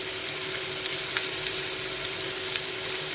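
Sengdana poha with turmeric being stirred in a hot pan, with a steady close sizzle and soft scraping of the spoon throughout, and no talking.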